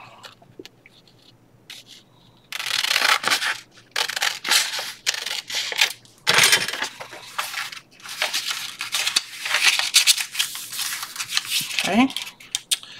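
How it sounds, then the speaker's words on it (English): Scissors trim a vellum tag for a dried flower insert with several bursts of crisp, close snipping and rubbing, separated by short pauses, and no one talking. "I'm going to trim it off just a tiny bit."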